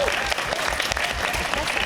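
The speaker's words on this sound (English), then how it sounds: "A round of applause for our panelists" Audience applause for panelists at a WonderCon Anaheim convention session on tabletop RPG content creation, a short burst of many hands clapping in a room, steady and moderately close, with a little voice mixed in.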